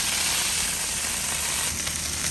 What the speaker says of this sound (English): throw a little water under it. Let it steam like that.